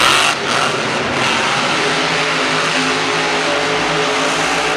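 Engine of the Son of a Digger monster truck, driven by Ryan Anderson at Monster Jam San Diego 2015, roaring at full throttle for big air over crushed cars, a loud, sustained, unbroken blare.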